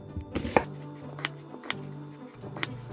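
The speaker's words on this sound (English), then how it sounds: "I'm starting off by chopping some onions" A knife chops onions on a cutting board in a few irregular, crisp knocks, fairly close, with quiet room tone between strokes.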